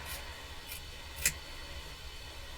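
Scissors cut fabric strips in one quick, crisp snip, close and brief, against a quiet low hum.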